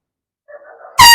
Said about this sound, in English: Oh, I got this air horn.